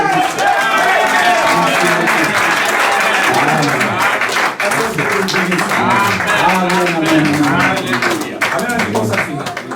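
Sustained applause from a church congregation during a sermon, dense and loud throughout, with voices mixed into the clapping.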